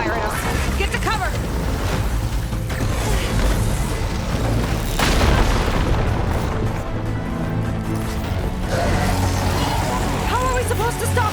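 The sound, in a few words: enemy machine firing and explosions in video game Horizon Forbidden West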